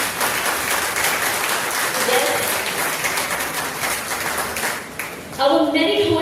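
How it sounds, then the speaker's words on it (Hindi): Audience applause for students at a school teacher felicitation ceremony rings through a hall as a broad steady wash, and near the end a voice begins speaking over the fading claps. "हमारे बच्चों के लिए बड़ी सी तालियां तो बनती है"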